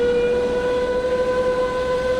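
A steady, loud train horn sounds in a DCS flight combat game, one sustained hoot held throughout with a continuous engine rumble beneath it.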